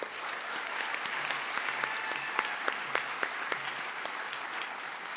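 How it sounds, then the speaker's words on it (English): Steady applause from a large crowd at a medical school ceremony in an opera house, dense clapping filling the room throughout with a few sharper individual claps standing out. "so big round of applause for them as well."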